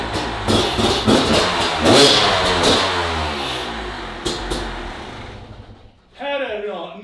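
A car drives on with a steady engine hum and broad road noise filling most of the stretch, fading out near the end before a voice speaks.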